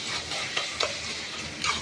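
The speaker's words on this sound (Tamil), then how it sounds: "இப்போ இன்னும் கொஞ்சம் நல்லா இந்த தக்காளியை மிக்ஸ் பண்ணிக்குவோம்." Tomatoes mixed with cumin powder and other spices are stirred in a hot pan, a continuous scraping stir over soft sizzling with a few louder knocks of the spoon, close and loud.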